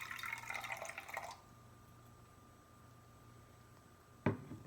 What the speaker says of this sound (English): I'm going to get 50 milliliters of water.